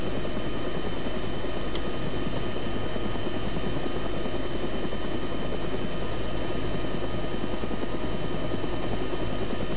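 Medium utility helicopter in ArmA 3 flying steadily, its rotor and turbine drone constant and close throughout, with no talk over it.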